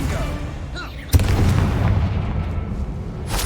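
A Bombarda blasting-spell explosion in the Hogwarts Legacy video game, one sharp boom followed by a sustained low rumble that continues to the end.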